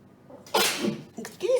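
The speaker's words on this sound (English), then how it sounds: "I did sneeze into my elbow" A close, loud sneeze in a school kitchen during cookie baking, starting with a short intake of breath and breaking into a sharp burst, followed by a brief vocal sound.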